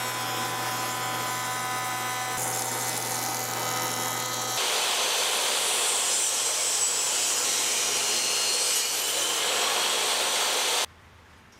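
Woodworking jointer machining boards in a shop while building a cornhole set, starting with a steady motor hum, then rising into a loud, continuous broadband cutting roar for several seconds before stopping abruptly.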